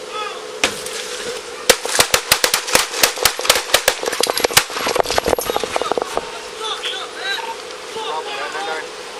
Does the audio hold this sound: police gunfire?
yes